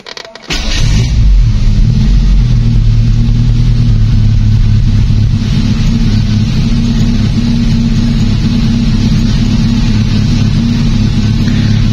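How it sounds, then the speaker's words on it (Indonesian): A car engine cranks and catches after a brief silence, then settles into a loud, steady running drone with a constant low hum that holds for the rest of the stretch. "Saya akan coba nyalakan mesin mobilnya."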